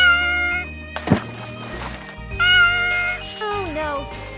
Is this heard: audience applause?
no